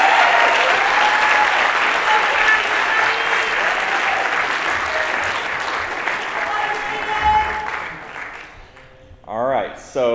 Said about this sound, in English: Let's give a nice round of applause for Aidan Loeffelman.